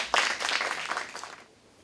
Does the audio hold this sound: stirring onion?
no